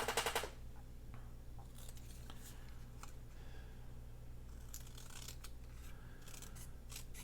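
Scissors trim paper for a handmade Christmas bell journal, giving soft, close snips and rustling cuts that come in scattered bursts across the quiet clip.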